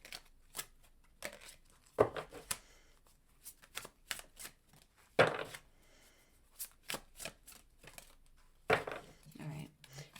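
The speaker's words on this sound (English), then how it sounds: "And 3 shuffles." Tarot cards riffle and slap in short bursts, a few separate shuffles with quiet gaps between them.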